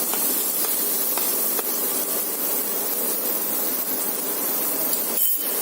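Fresh ginger dropped into a hot pan with garlic for a Goan-style mushroom chilli, giving a steady, loud sizzling hiss that runs unbroken close to the mic, with no talk over it.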